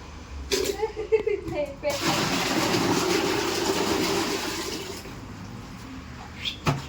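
Water gushes and splashes steadily into a container for several seconds, with voices talking briefly at the start and end.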